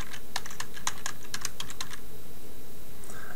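Typing on a computer keyboard, a quick run of crisp key clicks over about two seconds, then a pause with only faint room noise.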